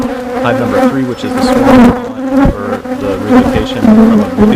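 A loud, steady, close buzz of many honeybees swarms around open hives during a beekeeping inspection of a defensive colony, and the wingbeat drone wavers in pitch.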